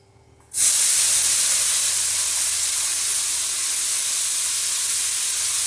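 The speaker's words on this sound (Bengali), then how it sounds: "এই তেলটার মধ্যে দিয়ে দেবে এখন পেঁয়াজ কুচিগুলি" Chopped onions hit hot oil in a pan just used to fry dried fish, erupting into a loud, steady hiss and sizzle that starts abruptly after a brief quiet moment and continues unbroken, with no talking.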